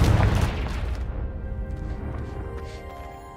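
A Confringo fire spell bursts in Hogwarts Legacy with a loud, deep boom at the start, then a rumbling tail that slowly fades over a few seconds.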